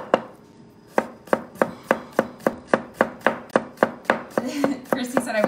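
A kitchen knife chops garlic on a cutting board in a steady series of sharp, evenly spaced thuds that quicken into faster, overlapping cuts near the end, close and clear with no talking.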